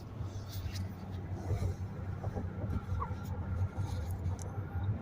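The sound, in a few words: car passing by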